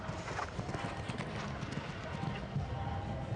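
The hooves of a 9-year-old stallion ridden at a show-jumping event clip-clop steadily in quick, even beats under a commentator's talk, set against a busy arena background.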